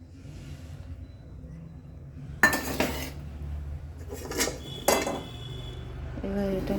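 A utensil stirs sugar into water in a pot to make syrup, giving a few sharp metallic clinks and scrapes against a quiet kitchen background.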